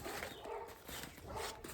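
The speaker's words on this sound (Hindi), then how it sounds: "बहुत देर से सुल्तान का साउंड आ रहा है भौंकने का" A dog barks twice, faint and somewhat distant, with a pause between the barks, over a steady low background hiss.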